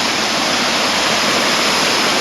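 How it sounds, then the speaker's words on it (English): A waterfall in Chiang Mai, Thailand, heard from its edge after recent rain: a loud, close, steady roar of rushing water with no break. "This is the edge of the waterfall."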